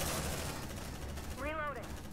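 Squad gunfire in the sci-fi video game Aliens: Dark Descent, a dense continuous burst of automatic weapons fire with a brief rising electronic whine near the end.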